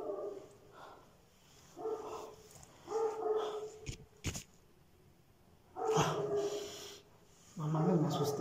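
A dog barks in a few separated bursts inside an abandoned house, moderately loud against a quiet background with some sharp knocks between, during an urban exploration of a supposedly haunted building.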